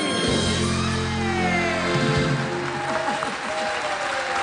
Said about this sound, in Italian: Direi che l'applauso se lo meritano Luigi Guerra, Diego Polesello e l'orchestra